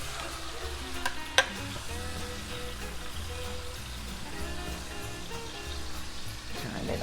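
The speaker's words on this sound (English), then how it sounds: "it's cooking in 2 tablespoons of olive oil" A pot roast sears in two tablespoons of olive oil before going into a crock pot, giving a steady, close frying sizzle with a few sharp utensil clicks and stirring sounds throughout.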